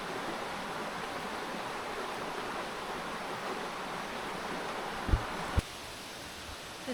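A waterfall in the Philippines roars as a steady, hissing wash of falling water, fairly faint and distant, with a couple of brief knocks near the end.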